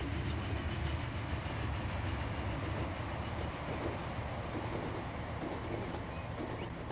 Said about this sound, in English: We're just going to let this cross-country train go by.